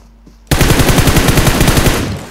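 Loud rapid automatic gunfire from PUBG on the Livik map starts abruptly and runs as a close, dense burst of evenly spaced shots for about two seconds.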